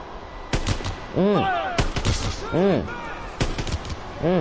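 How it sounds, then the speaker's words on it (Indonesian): Gunfire from Call of Duty WWII rings out in a few sharp, loud bursts with short gaps between them, while a player talks over the shots. "Aku tembak nih."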